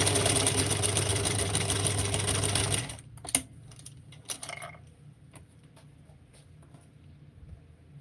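A sewing machine runs at a steady mechanical whir while stitching for about three seconds, then stops, leaving a few soft clicks and handling knocks against a quiet background.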